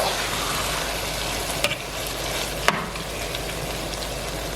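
Shrimp stew sauce for jollof rice simmers in a pot with a steady, soft sizzling hiss and two brief sharp clicks, no voices.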